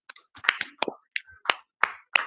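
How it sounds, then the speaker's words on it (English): Hands clap in a sparse, uneven series of sharp, close claps, about ten in all, with short silent gaps between them. A few of the smacks come as quick doubled hits. "Clap it up, Akim, once again."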